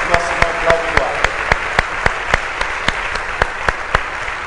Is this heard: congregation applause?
yes